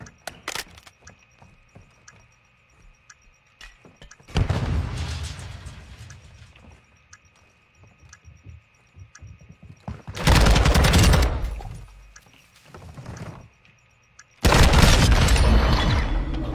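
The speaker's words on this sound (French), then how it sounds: "Préparez-vous pour l'explosion." Explosions go off in a search-and-destroy shooter video game: three loud, sustained booming blasts with quieter clicks and faint game sounds in between.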